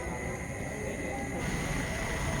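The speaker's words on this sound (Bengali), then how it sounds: "ট্রেন আসছে, দেখতে পাচ্ছ লাইট জ্বলছে, ট্রেনের দূর থেকে আসছে" A low, steady rumble of a train approaching a station builds slightly over a couple of seconds, with a faint high whine and distant voices beneath.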